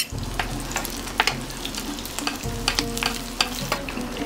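An egg-filled brick pastry packed with minced meat fries in a pan with light crackling and spitting, and a few sharp clicks and taps of handling close by, all fairly quiet.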